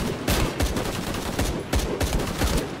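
Rifle fire in Shadow of the Tomb Raider: a quick series of sharp, loud shots, roughly eight to ten, in uneven bursts, close and alone without speech.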